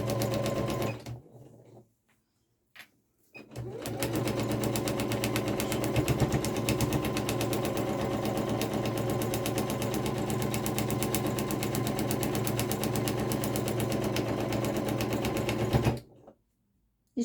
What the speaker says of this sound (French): je me mets à la machine, à tout de suite. Et là maintenant je couds à 1 cm tout du long